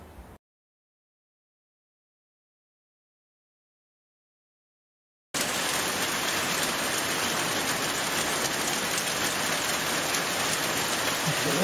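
Steady rain falling outdoors on a rainy day, a dense, even hiss of drops that starts abruptly after a stretch of silence and keeps going at constant level, with a faint high tone running through.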